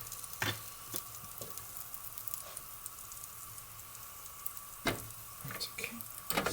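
American pancakes cook in a pan, giving a soft, even sizzle punctuated by occasional sharp clinks and scrapes, with no talk over it.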